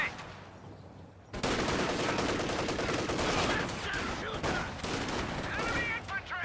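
Sustained rapid gunfire and fusillade from infantry battle in a World War II strategy game, starting abruptly after a quieter moment and continuing loud and dense throughout, with game voice callouts mixed in.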